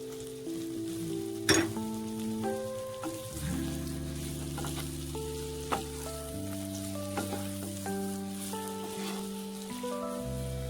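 Broccoli sizzles in a pan of mixed vegetable stir fry with carrot, capsicum and tomato. A steady, soft hiss runs beneath a louder melodic backing tune throughout.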